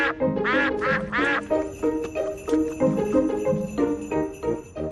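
Cartoon ducks quack in three loud, close bursts at the start beside a frozen pond, then jingly music with steady beats carries on alone.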